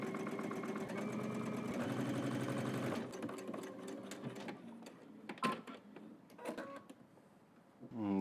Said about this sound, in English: So now let's head to the machine. We're going to stitch all the way across using 5/8 of an inch seam allowance.